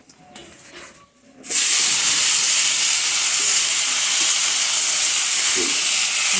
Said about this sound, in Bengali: তো সবাই প্রথমে আমি সবজিগুলো ভেজে নিই।